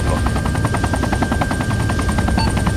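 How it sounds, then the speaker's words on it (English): A hostile UH-1 helicopter in the video game Arma 3 thuds overhead with steady, rapid rotor pulses and a loud droning engine, continuous and close, with no talk. "do we have a hostile helicopter? Yeah, that's an affirmative. We have hostile UH-1."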